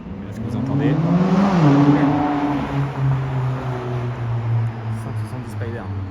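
Classic Italian 170 Spider sports car engine revving nearby on a Paris street, a rising rev peaking around the second mark then settling into a steady drone, with people talking over it.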